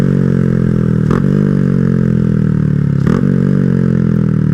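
Honda Grom motorcycle engine droning steadily at close range during a small wheelie, with a brief revving surge about a second in and another near three seconds, no talking.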